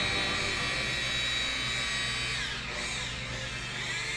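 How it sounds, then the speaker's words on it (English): Power polisher with a foam pad buffing car paint using buffing compound, a steady high motor whine running continuously at close range with a slight dip in pitch near the end. "Foam pads used for buffing and using a buffing compound."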